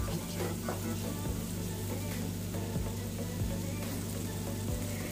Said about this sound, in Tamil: ஸோ ஆனியன் போட்டு இந்த மாதிரி நல்லா வதக்கிக்கோங்க